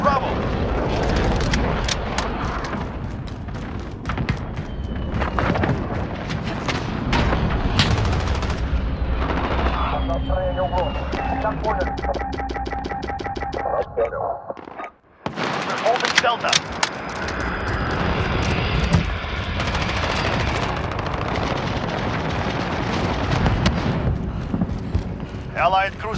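Explosions from a cluster strike and bursts of gunfire in a Call of Duty: Modern Warfare Ground War multiplayer match, loud and continuous with dense booms and rattling fire, a brief lull near the middle, and radio voice callouts mixed in.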